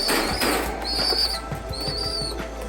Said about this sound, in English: Shouldn't have put those old birds in there with the young ones.